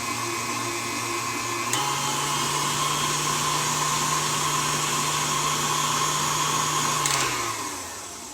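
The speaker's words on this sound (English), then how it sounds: "Okay, now I'm going to mix this up." Electric hand mixer whirring through cherry cheesecake brownie batter in a home kitchen, a steady loud motor whine that shifts pitch once and winds down at the end, with no talking.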